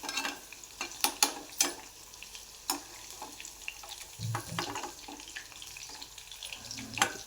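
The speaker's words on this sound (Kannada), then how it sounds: "ಇದನ್ನು ಸೈಡಿಗೆ ಎತ್ತಿಟ್ಕೊಂಡು ಮಸಾಲನ್ನ ಫ್ರೈ ಮಾಡೋಣ ಇದರಲ್ಲೇ" Masala frying in a pan in a home kitchen, soft sizzling under sporadic close scrapes and clinks of a utensil, with faint watery splashes, fairly quiet and free of talk.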